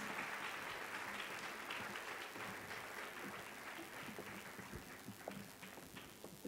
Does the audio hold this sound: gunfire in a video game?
no